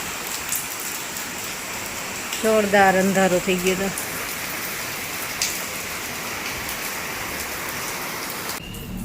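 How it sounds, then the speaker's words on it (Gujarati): Heavy monsoon rain pours down in a continuous, loud, even hiss; a person speaks briefly near the start over the downpour. "મસ્ત વરસાદ ચાલુ થયો છે"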